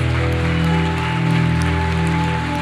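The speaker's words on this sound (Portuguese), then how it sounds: "Vamos aplaudir bem forte." A church congregation applauds at a family conference, a steady wash of clapping lasting the whole stretch beneath loud sustained music.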